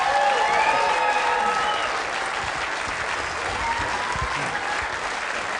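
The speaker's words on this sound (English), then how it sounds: "Give them a round of applause one more time" A large audience at a Weber Cup 2016 bowling match claps and cheers in a loud, sustained burst that eases slightly midway without fading out.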